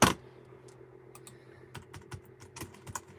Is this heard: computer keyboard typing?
yes